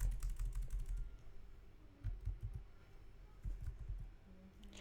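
Someone types on a computer keyboard, giving faint, uneven bursts of key clicks over a low room hum while configuring a PPTP tunneling setup.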